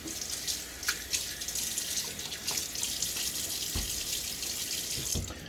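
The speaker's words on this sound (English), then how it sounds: "let us add water to my face before we lather up" Tap water running into a bathroom sink while water is splashed onto a face before lathering for a shave, a steady close hiss broken by a few soft splashes.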